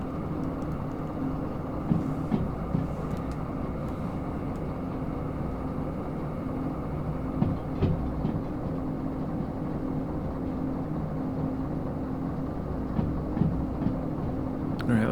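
A freight train in the Derail Valley simulator rolls steadily along rails with a continuous low rumble and faint wheel clicks, heard alone at a constant level throughout.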